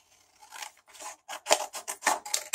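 Scissors snipping through a stiff Bristol card, a quick series of short dry cuts and rasps, close and clear with no talk.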